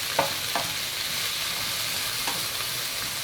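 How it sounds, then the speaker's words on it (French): Food cooking gently in just a little oil gives off a soft, even sizzle throughout, marked by a few faint clicks of utensils. "Allez, je vais mijoter quelques minutes."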